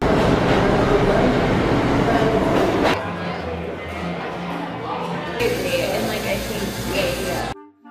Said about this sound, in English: I ride the subway for hours every day, and it's really, really loud.